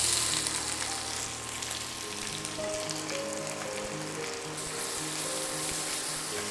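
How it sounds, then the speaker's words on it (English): Sliced onions sizzle steadily in hot oil for a Kerala village-style chicken curry, a continuous close frying hiss with faint scraping tones and no talking. "Our oil is hot enough, so let's add our sliced onions."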